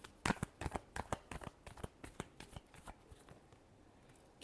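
A deck of tarot cards is shuffled close up in a rapid run of crisp riffling flicks that starts loud and thins out toward the end, with no voices.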